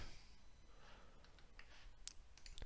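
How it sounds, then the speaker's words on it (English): A few faint, sharp clicks from a computer mouse while navigating Windows settings, scattered near the end over a quiet, hissy background. "Click on Settings. Click on System. And click on Power and Sleep."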